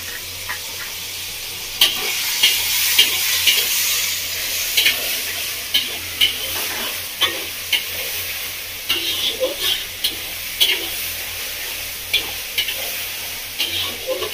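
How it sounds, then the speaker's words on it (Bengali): Chow mein with mushrooms is stirred and tossed in a salted frying pan in a village kitchen, with a constant hiss of frying under regular sharp scrapes and clacks of the spatula, close and fairly loud. "লবণ দিয়ে খুব ভালো করে নাড়াচাড়া করে নেব।"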